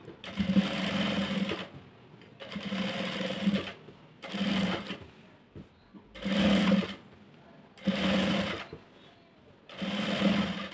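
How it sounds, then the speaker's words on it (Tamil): A sewing machine runs in six loud, even bursts of rapid stitching separated by short pauses, laying a double stitch on an Anarkali dress. "இந்த இடத்துக்கிட்ட ஒரு டபுள் ஸ்டிச் போட்டுக்கிட்டு"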